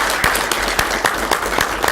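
A small audience at a Vernon Township council meeting claps for the EDAC committee, scattered hand claps against steady room noise.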